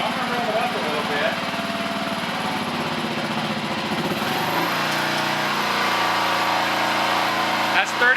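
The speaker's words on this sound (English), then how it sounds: "Okay, so I'm going to rev it up a little bit." A Kawasaki KLR 650 motorcycle engine idles and revs up steadily to about 3,500 RPM during a voltage regulator test, a continuous close mechanical drone that shifts in pitch partway through, with someone talking over it.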